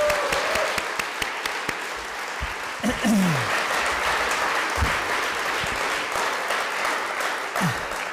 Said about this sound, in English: just one big final round of applause from us all.